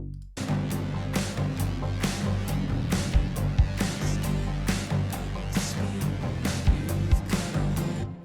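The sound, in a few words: bass synth for a breakdown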